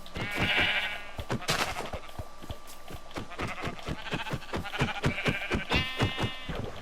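Repeated sheep bleats from Minecraft, several calls in quick succession with sharp rhythmic clicks and game sounds between them, fairly close and loud with no talking.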